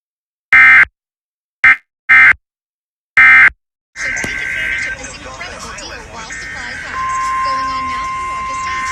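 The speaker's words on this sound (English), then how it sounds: "The preceding signal was a test of the NOAA radio warning alarm device" NOAA Weather Radio warning alarm test tone: four loud, steady beeping bursts of a single pitch with short silent gaps, followed by a sustained broadcast tone mixed with static and noise.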